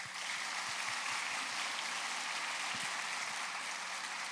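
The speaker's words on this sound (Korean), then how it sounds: "박수 한번 부탁드립니다." A large crowd at an outdoor commemoration ceremony claps steadily, a soft, diffuse wash of applause that holds evenly throughout without a clear rise or fall.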